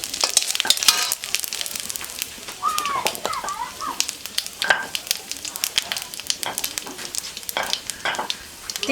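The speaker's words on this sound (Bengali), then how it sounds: "ভিতরে গোটা জিরে দিয়ে দিচ্ছি।" Whole cumin seeds crackle and sizzle in hot oil in a pan, a steady spitting fry with sharp pops scattered throughout, close and moderately loud, with no voices.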